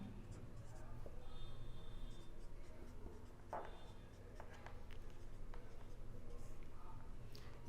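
Writing on a board during a chemistry lesson, a steady soft scratching of strokes throughout with a couple of sharper taps, recorded close and fairly quiet.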